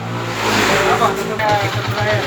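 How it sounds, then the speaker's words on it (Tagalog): A 2009 Honda TMX155 motorcycle engine running after its timing gear and cam follower were replaced, idling steadily up close with a low, even putter while someone talks over it. "napakagandang andar ng motor"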